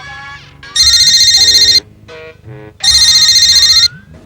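A phone ringtone plays in two loud bursts of trilling electronic tones, separated by a brief gap filled with soft sounds.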